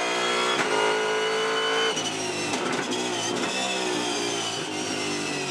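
V8 Supercar race cars at the 2015 Perth SuperSprint accelerate hard, engines screaming with rising pitch and gear changes, several cars layered in a loud, continuous track roar with no speech.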